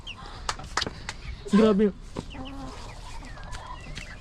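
A backyard chicken clucks in a short loud burst partway through, among scattered bird calls and clicks in a garden, while a person speaks briefly.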